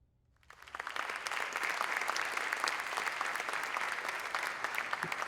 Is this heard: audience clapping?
yes